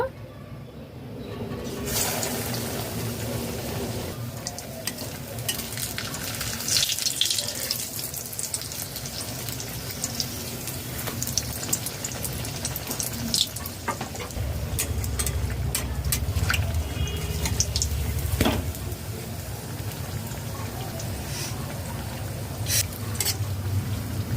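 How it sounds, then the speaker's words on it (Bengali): Besan-dipped potato filling frying in oil sizzles steadily over low to medium flame, a continuous bubbling hiss with occasional clinks and stirring sounds, and a voice is heard speaking at times. "বেসনের গোলায় ডুবিয়ে আলুর পুর ভেজে নেব"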